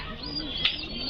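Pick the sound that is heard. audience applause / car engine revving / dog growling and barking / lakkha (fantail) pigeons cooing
lakkha (fantail) pigeons cooing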